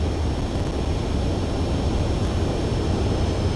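Steady, loud broadband roar of a fighter jet engine on landing approach in Ace Combat 7, droning continuously with no breaks and no voices.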